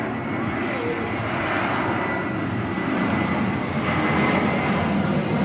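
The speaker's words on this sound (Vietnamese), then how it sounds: "Có máy bay rồi." A fixed-wing airplane passes overhead near a riverside temple in Go Vap, a loud broad engine roar that holds steady and swells slightly toward the end, with faint voices beneath.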